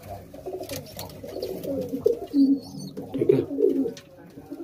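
Red Madrasi pigeons cooing nearby in soft, throaty, repeated rolling coos, with someone speaking briefly over them.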